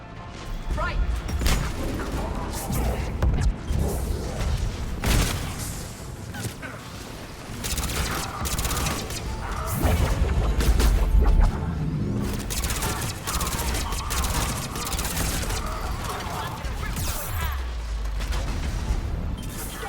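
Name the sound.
turret gunfire in the video game Mass Effect 3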